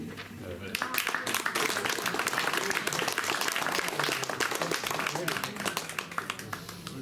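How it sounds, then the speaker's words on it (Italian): An audience breaks into sustained applause at an Italian gathering, a dense and steady wash of many hands clapping that fills the whole stretch with no pauses. "Un applauso"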